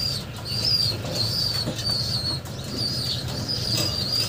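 Pigeon wings flapping in repeated bursts close by, with a steady low rumble underneath and faint high-pitched chirping.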